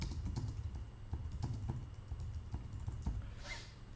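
Rapid clicking of a computer keyboard while someone types a short example of instructional text, the keystrokes coming in quick, uneven bursts close to the microphone with no one speaking.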